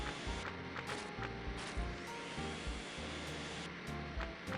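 A steady whooshing vacuum cleaner drone fills the background of a Garfield video game, broken by low rhythmic thumps and faint chimes.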